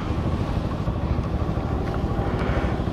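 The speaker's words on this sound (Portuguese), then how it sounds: "E as motinhas novas da Honda?" New Honda motorcycles ride past on a busy street, their engines making a steady, dense, low-pitched drone that holds throughout with no pause or break.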